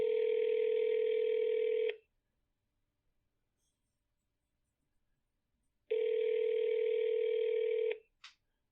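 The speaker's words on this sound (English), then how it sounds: "Can you hear it ringing or not?" Telephone ringback tone heard during a call, two long steady electronic rings about four seconds apart with silence between, clean and moderately loud, followed by a brief click.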